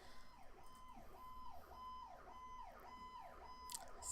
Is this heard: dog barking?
no